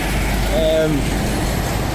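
A truck passes at a roundabout in Stirling, Scotland, with a brief air-brake hiss over steady traffic rumble, while people talk nearby.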